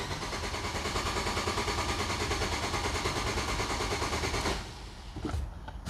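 A 200,000-mile Nissan Sentra engine runs with a rough, pulsing rumble for several seconds, then abruptly cuts out and stalls, leaving faint clicks and low background noise.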